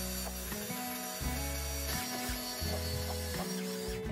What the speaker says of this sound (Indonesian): untuk melubanginya seperti biasa saya menggunakan mata bor spiral